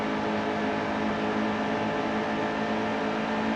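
Race car engine in NASCAR Heat 2, a continuous loud droning roar held at high revs, steady and unbroken throughout.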